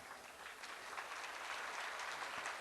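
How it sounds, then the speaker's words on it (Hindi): A soft patter of light applause rises from an audience at a Kumbh festival performance in Haridwar, faint and distant, a steady wash of many hands with no voices. "ये हल्की सी तालियां,"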